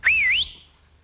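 A person whistles one clear rising and falling note, a short swooping tone held for about half a second, loud and alone with no talk, followed by quiet.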